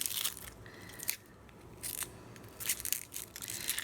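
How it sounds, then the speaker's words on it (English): Dry outer skin being peeled off an onion, giving close, crisp papery crackles and tearing rustles in short bursts separated by brief pauses, with no talking. "You're then going to peel off the outer bit of skin here."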